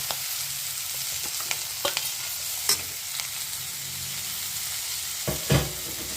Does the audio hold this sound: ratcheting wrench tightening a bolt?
no